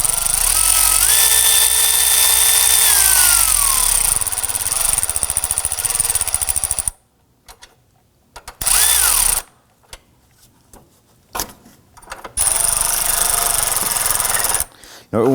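Battery hold-down nuts on a 2005-2009 Subaru Legacy being snugged with a powered ratchet: loud, close bursts of whining motor that shift in pitch, broken by short silent gaps between runs.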